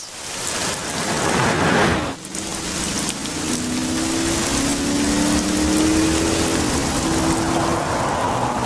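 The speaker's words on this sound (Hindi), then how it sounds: "एक तो आज बारिश भी बहुत तेज है" Heavy rain pours down in a steady, loud hiss, with a deep thunder crack near the start and a long low rumble rolling on under the downpour.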